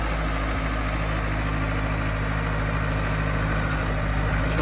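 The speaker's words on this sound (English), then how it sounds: "You can go all the way up here and show you that the front end loader works." A John Deere 310D backhoe engine runs as the front loader lifts, a loud steady diesel drone with continuous low rumble and vibration, close by and uninterrupted, without speech.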